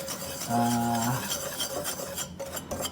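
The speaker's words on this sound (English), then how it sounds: "I'm gonna mix all this up together, whisk it" A whisk stirs kosher salt and baking powder together in a bowl for orange scones, giving a soft, continuous scratchy rasp with light clinks, close by.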